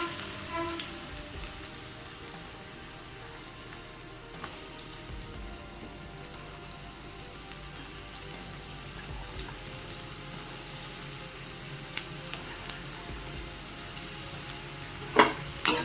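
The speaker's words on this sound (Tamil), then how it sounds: "அந்த ஆயில் ஹீட் ஆனதுக்கப்புறமா அதில் வந்துட்டு ஆனியன்ஸ் போட்டுக்கலாம்." Chopped onions frying in heated oil in a pan, a steady, moderately quiet sizzle with a few faint clinks and taps over it, no voices.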